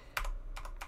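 Computer keyboard keys clatter in three quick bursts of typing over a low steady hum, close and fairly loud, with no talking.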